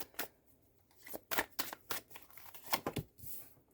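Tarot cards shuffled by hand, a close, quiet run of crisp riffling bursts and flicks in uneven rhythm.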